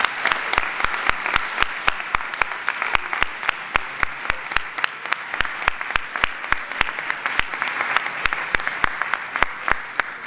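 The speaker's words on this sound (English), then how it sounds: "Please join me in a big round of applause for Mr. Joy." An audience at a lower school winter concert applauds steadily, with sharp individual claps rising out of a continuous wash of clapping and no talking over it.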